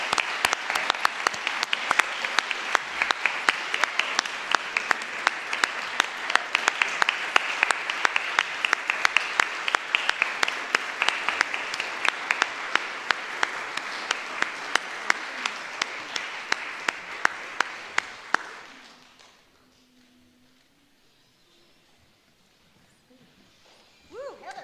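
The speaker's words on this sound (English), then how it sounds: "Let's all give Heather a round of applause." A conference audience gives a sustained round of applause for an award recipient. The clapping is dense and steady for about eighteen seconds, then fades quickly into near silence.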